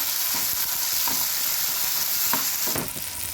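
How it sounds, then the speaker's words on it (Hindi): Tomatoes with ginger-garlic paste stirred and frying in a pan for chane ki sabji, a steady sizzle throughout with a few soft scraping strokes of the spoon, close and moderately loud, no talking. "अदरक लहसुन का पेस्ट भी डालना है। डाल के"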